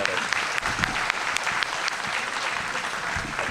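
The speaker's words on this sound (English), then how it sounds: "One more round of applause for Mrs." Steady applause from an audience at an 8th grade promotion ceremony, dense and even throughout with scattered individual claps standing out, fairly close and sustained without pause.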